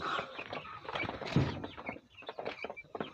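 Chickens clucking and stirring in a mixed coop with pigeons kept above, short scattered calls over rustling and bustle, fairly close with no talk.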